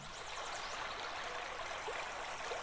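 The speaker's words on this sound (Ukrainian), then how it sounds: "Я вам зараз пропоную послухати дзюрчання струмочка." A small stream babbling and trickling, a steady close wash of bright gurgling water at even volume with no voices.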